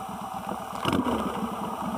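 A 1996 Suzuki Intruder VS1400 motorcycle engine idles just after starting, a steady lumpy rhythmic thrum heard up close, with a brief louder burst midway and no talk.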